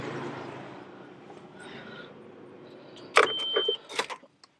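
A Nissan Xterra with a bad head gasket idles with a low, steady rumble that fades as the engine is switched off. A few close clicks and clunks from the cab follow, then quiet.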